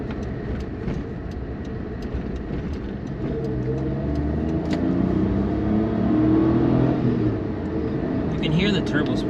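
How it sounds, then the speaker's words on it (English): A turbocharged Suzuki Jimny JB23 engine drones and builds steadily as it accelerates on a highway, with a faint rising turbo-spool whine near the end, while a person talks over it. "Hear the turbo spool up too, which is pretty cool."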